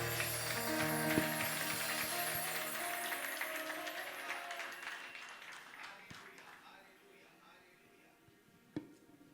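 A church congregation at a worship service claps and ululates in praise, a loud crowd swell that gradually fades to quiet, ending with a single sharp knock.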